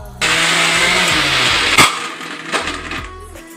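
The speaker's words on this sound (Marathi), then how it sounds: "हे मिश्रण मी मिक्सरच्या भांड्यामध्ये चांगलंच एकजीव करते" A mixer grinder whirs loudly and steadily, blending green chili paste, a harsh continuous grinding roar that starts abruptly and runs throughout, with soft background music underneath.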